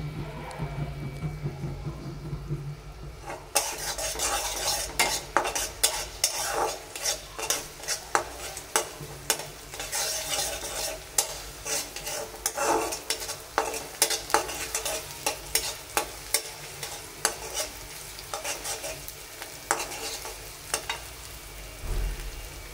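Onions fry in hot oil in a wok, a continuous sizzle with frequent rhythmic scrapes and clinks of a spatula stirring them, close and fairly loud after a quieter start.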